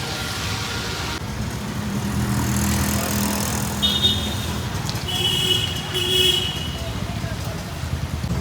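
A car goes past on a road at night, its engine and tyre noise swelling and then fading, with a short tone or horn partway through and voices in the background.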